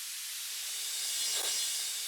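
A steady, bright white-noise hiss used as an effect in a house music track, holding at a constant level with a slight swell near the end, loud and alone.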